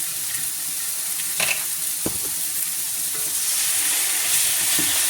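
A steak grills in a pan, giving a steady, close sizzle with a few sharp clicks and scrapes from a utensil partway through.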